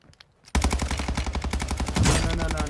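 Rapid automatic gunfire from a super gun in a shooter video game bursts in after a brief quiet moment, a loud dense stream of shots continuing without pause and close up.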